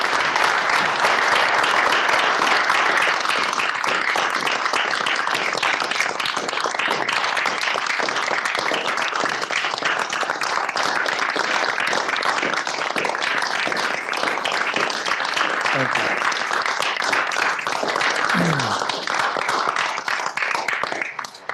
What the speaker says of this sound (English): I would ask that we give a round of applause for our exiting Lieutenant Governor